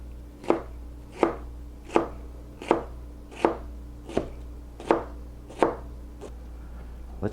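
A knife chopping vegetables on a cutting board, nine crisp evenly spaced strikes in a steady rhythm, close and clear over a low background hum.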